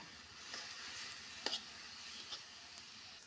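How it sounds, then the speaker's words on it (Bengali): Keora greens frying in oil with whole green chilies, a faint, soft sizzle with a few brief stirring scrapes, quiet and without speech. "তেলে দিয়ে লাল করে ভেজে তারপর শাকগুলি দিয়ে একটু লবণ দিয়ে 2টা আস্ত কাঁচামরিচ দিয়ে কিছুক্ষণ নেড়ে চেড়ে তারপর নামিয়ে ফেলব।"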